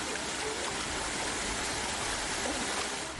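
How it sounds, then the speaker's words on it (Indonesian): Rushing flood water from the overflowing Jenes river in Karanganyar, a steady dense roar of surging water filling the whole short stretch with no pauses. "Hujan deras yang mengguyur daerah ini menyebabkan Sungai Jenes Karanganyar meluap dan memutus akses ke 5 desa"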